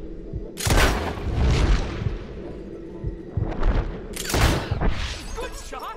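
Gunshots in Red Dead Redemption 2: two or three heavy, booming reports a few seconds apart, each followed by a ringing tail, over low background game ambience.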